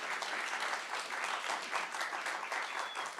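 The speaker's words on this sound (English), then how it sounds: "I get so uncomfortable when people clap" An audience at a live Anishinaabe music performance claps after a song, a dense, even patter of applause sustained throughout with no one speaking.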